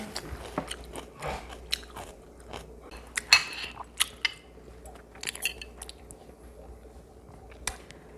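A child chews tteokbokki, soft sticky rice cakes, making faint, close squishy bites and smacks with a few clinks of utensils, all fairly quiet against a low background hum.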